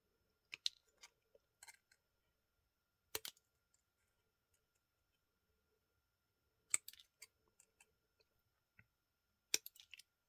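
Scissors snipping through a thin metal beer bottle cap, a handful of sharp, crisp cuts spaced irregularly and close by, with quiet pauses between them.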